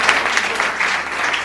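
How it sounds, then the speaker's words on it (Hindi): Audience applause welcoming the poet Rohit Chaudhary at a Hindi poetry gathering: dense, steady clapping from a crowd that carries on evenly for the whole stretch, with no talk over it. "एक बार जोरदार तालियों"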